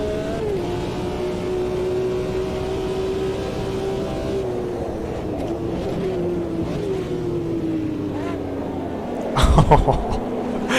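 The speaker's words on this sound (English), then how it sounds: "Just hearing that other car blipping into turn 1." Race car engines in the Automobilista 2 sim racing game during an endurance race: a sustained engine drone with a slowly falling pitch, then a brief, punchy burst of revs near the end as another car blips into a turn.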